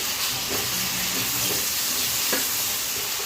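Tomatoes go into a hot pan for aloo kurma and sizzle in a continuous close hiss, with faint scrapes and a brief knock near the end, and no voices.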